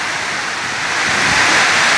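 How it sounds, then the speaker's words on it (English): A heavy pouring rainstorm over a water village in Day-Asan roars as a dense, steady hiss that swells louder through the second half, with no voices. "it is pouring. Pouring rain."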